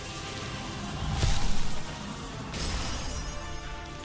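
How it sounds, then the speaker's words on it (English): Crystals shattering in Godforge game footage: a bright, dense crackling crash swells briefly, then a glassy, sparkling shimmer lingers under steady background noise. "you heard the shattering of the crystals there"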